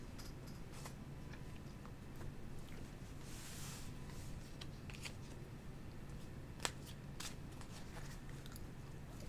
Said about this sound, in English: Let me shuffle these back in.